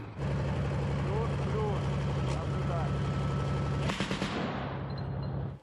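An infantry fighting vehicle (BMP) fires on the front line near Chasiv Yar, with loud sustained rumbling and a sharp burst near the four-second mark, while voices talk over a radio.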